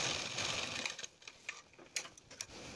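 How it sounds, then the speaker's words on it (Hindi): A sewing machine stitching buckram for a blouse back-neck lotus design: a fast mechanical whirring run that slows into a few separate clicks and short bursts, close and fairly quiet. "हम इस तरह से पहले हम सिलाई लगा लेंगे इसमें"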